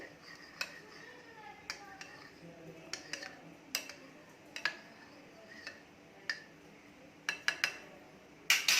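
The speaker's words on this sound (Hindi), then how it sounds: "चम्मच से ऐसे हिला के" Spoon stirring basil seeds in a bowl of water, with a series of light metallic clinks and taps against the dish at uneven intervals, faint and close, with a sharper clatter at the end.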